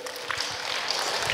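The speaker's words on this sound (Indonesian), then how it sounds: "Kita kasih tepuk tangan dulu." Brief burst of audience applause at an indoor job-interview seminar, a dense wash of many hands clapping together at moderate loudness for about a second.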